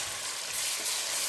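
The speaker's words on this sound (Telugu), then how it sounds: "అల్లం వెల్లుల్లి పేస్ట్ వేసుకొని ఫ్రై చేసుకోవాలి" Ginger garlic paste fries in a pan for a chicken curry, giving a steady, dense hiss of sizzling oil close by with no voices.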